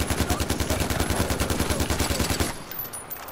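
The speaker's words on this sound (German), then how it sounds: "Ich knall ihn mal ab, bevor er mich aufisst." Rapid automatic gunfire in the video game Far Cry 4, a fast, evenly spaced burst of loud shots lasting a couple of seconds before cutting off.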